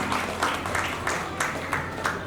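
An audience at an Independence Day kavi sammelan (Hindi poetry recital) claps to welcome a poet, a steady, fairly loud wash of many hands with rhythmic pulses running throughout.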